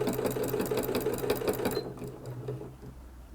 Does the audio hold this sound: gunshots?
no